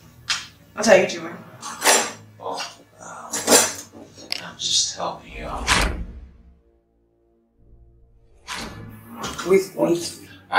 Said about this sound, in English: I was just trying to align the cutlery to the drawer